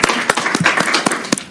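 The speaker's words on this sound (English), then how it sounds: "please give them a round of applause" An audience at a student government meeting applauds. The dense clapping is close and lively and lasts the whole short moment.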